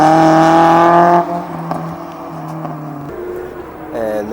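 A Porsche drives an autocross course, its engine droning steadily with a strong harmonic whine that drops in pitch as it lifts off, then climbs again toward the end.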